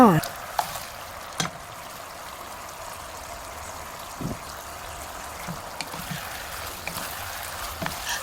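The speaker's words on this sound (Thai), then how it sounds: "พอรสชาติเป็นที่ถูกใจแล้วเราก็ ใส่เต้าหู้ลงไปได้เลยค่ะ" Tofu stir-fries in a thickened sauce with light sizzling and a stream-like trickle, punctuated by scattered soft clicks and taps of a utensil against the pan, at moderate volume close by.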